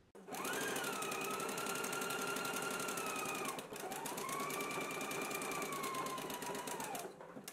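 A home sewing machine runs a zigzag stitch along a 5/8 inch garment shoulder seam in two long, steady, close bursts with a whining motor that ramps up and down, briefly pausing in between.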